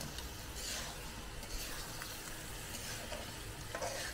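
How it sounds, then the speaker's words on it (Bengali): Crab and spices sizzle and fry in a pan while being stirred in a traditional home-style crab dish, a steady close hiss with scattered scraping stir sounds throughout and no talking. "তো এটা আমি সুন্দর করে এবার কষিয়ে নেব, যত কষাবো অত ততটাই মজা লাগবে।"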